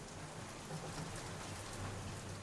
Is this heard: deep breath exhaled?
no